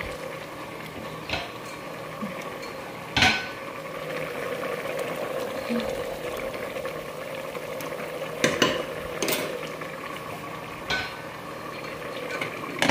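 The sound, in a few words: frying bora (fritters) in a pan, stirring with utensils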